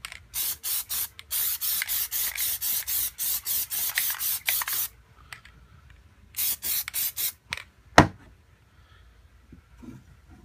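Plasti Dip spray coating is applied to a car side mirror on a 2006–2010 VW Jetta in quick repeated aerosol hisses, a long run of short bursts, then a pause, a few more bursts and a sharp knock near the end.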